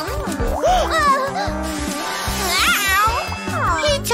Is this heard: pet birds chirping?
no